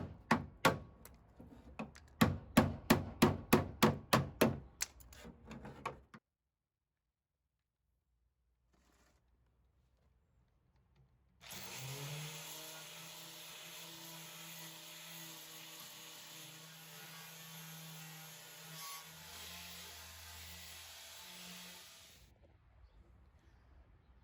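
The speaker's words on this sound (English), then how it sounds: "It's had some previous body work done to it that I actually had to chisel off." Old body filler being chiseled off the fender of a 1960 T-bird: about ten sharp, rapid metallic strikes in close succession, then a pause and a long, loud, steady machine roar.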